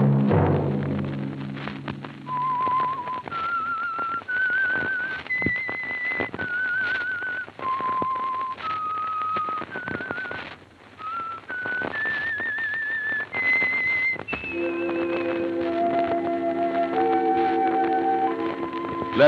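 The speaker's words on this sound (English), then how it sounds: "Let that whistle be your signal" Someone whistles a slow, sustained melody of long held notes, joined later by soft instrumental accompaniment, clear and up front.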